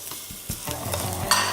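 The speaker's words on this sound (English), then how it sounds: "Roast your rice for a bit." Rice is stirred and roasted in hot oil in a pot for a tamarind rice one-pot meal, with scraping spoon strokes over a steady close sizzle.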